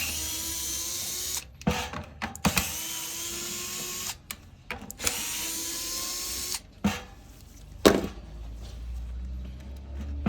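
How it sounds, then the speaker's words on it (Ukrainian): A power tool unscrewing bolts from the handle of an electric beekeeper's smoker runs in several whirring bursts of a few seconds each, separated by short pauses and clicks, close and moderately loud. "Так, і відкручуємо всі інші болти."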